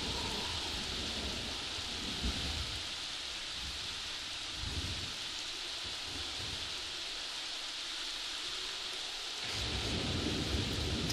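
Steady rainfall hisses through a thunderstorm in The Sims 3 video game, with low rumbles of thunder rolling underneath at a moderate, even level and no voices.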